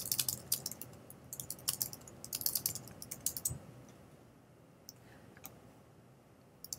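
Quick bursts of clicky typing on a computer keyboard, close and crisp, fading to a few scattered key taps toward the end, with no voice.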